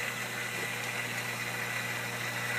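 Mag Drive 2400 aquarium pump running in a sump, a steady close electric hum with a constant whirring drone and no talk.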